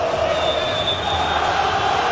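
Vasco supporters fill a football stadium during an Avaí versus Vasco Copa do Brasil 2011 match, a dense, continuous roar of distant chanting and crowd noise.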